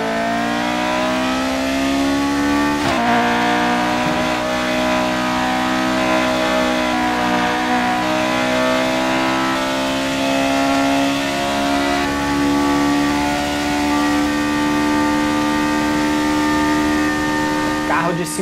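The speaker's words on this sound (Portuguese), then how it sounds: "Primeiro aí vai ser a Lotus 72 de Emerson Fittipaldi. Vamos acelerar com tudo aqui." A Lotus 72 Formula 1 car in the racing game F1 2018 accelerates hard, its engine note holding a loud, steady revving tone that climbs slowly in pitch, with one brief gearshift break early on and talk over the top.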